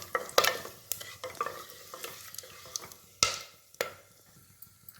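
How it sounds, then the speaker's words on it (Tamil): Bay leaf, cardamom, cinnamon and cloves sautéing in hot ghee for ghee rice give a close sizzle broken by sharp spoon scrapes and clinks against the pan at irregular intervals, no talking. "பிரியாணி இலை, 4 ஏலக்காய், 2 பட்டை, 4 கிராம்பு, இது எல்லாத்தையும் நல்லா வதக்கிக்கணும்."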